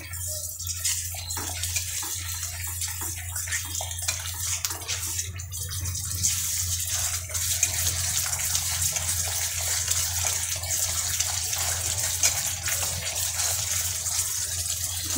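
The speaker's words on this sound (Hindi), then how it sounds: "हमारी ग्रेवी में बबल्स आने शुरू हो गए हैं" Restaurant-style paneer gravy in a pan, thickened with tomato, bubbling steadily as it cooks, with a continuous close sizzle and hiss behind a low hum.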